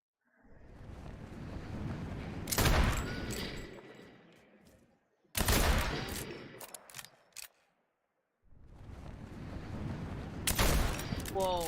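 SMG fire in a video game comes in three loud, rapid bursts of automatic shots, split by short silences, each rising to sharp peaks before trailing off.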